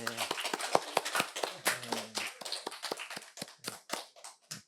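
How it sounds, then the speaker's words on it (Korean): A church congregation claps in a brisk, uneven patter of sharp hand claps, with a voice speaking briefly underneath, in a roomy indoor space. "우리 방송실을 위해서 우리 한번 감사의 박수 한번 할까요?"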